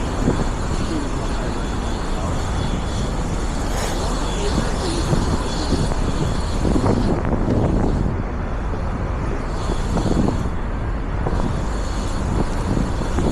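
A steady, loud helicopter engine roar fills the scene over Manhattan near Chelsea Piers, rotor-like throbbing under wind noise, holding constant without fading in or out.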